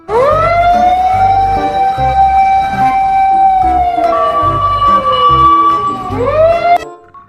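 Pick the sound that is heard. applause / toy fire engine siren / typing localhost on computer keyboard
toy fire engine siren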